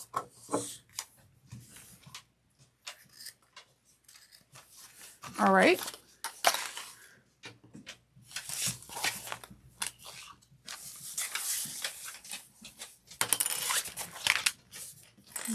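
Scissors trim excess zipper tape on a train case, making scattered crisp snips and crunchy cuts, with a person speaking briefly between them.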